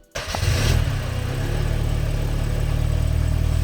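A Mercedes 190E engine fires up and settles into a steady, close idle that hums loud and even after a brief initial surge.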